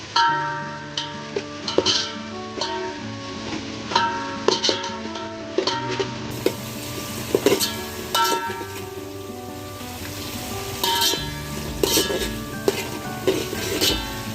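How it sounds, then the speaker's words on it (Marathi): Spice masala for veg biryani frying and sizzling in a pan, a steady close crackle with clinks of a stirring spoon scraping the pan throughout. "मस्त हा मसाला भाजून झाला पाहिजे, एकदम लाल रंग बदलेपर्यंत भाजायचा आहे"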